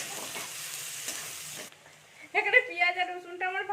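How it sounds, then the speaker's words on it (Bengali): Chopped medium onions frying lightly in a pan, a broad hiss in the first half that drops away, followed by brighter tonal clatter and stirring sounds near the end. "এবার আমি পেঁয়াজ কুচিগুলো দিয়ে দিচ্ছি আমি দুটো পেঁয়াজ নিয়েছিলাম মাঝারি সাইজে এটাকে আমি একটু ভেজে নেবো হালকা করে"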